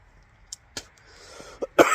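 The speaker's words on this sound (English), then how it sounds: "I'm still dealing with a little bit of a cough" Several short, dry coughs from one person, close by: two isolated hacks, a pause, then a quick pair building into a harsher, louder burst at the end.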